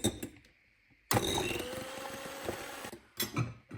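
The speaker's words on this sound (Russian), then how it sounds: "Не останавливая миксер, добавляем сахар." An electric hand mixer whips egg whites for a sponge cake with a steady, fairly loud whirring drone, framed by short bursts of clatter and someone speaking before and after.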